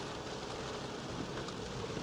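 Faint, steady rain hisses evenly in a gorge leading down to the Rhine valley, a soft continuous wash without distinct drops, heard through low background rumble.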